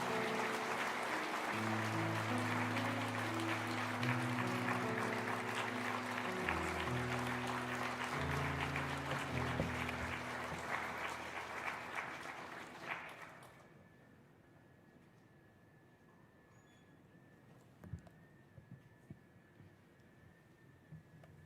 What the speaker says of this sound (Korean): 목사님 보내주신 하나님께 영광의 박수로 또 우리 목사님 환영하는 박수로 목사님 모시겠습니다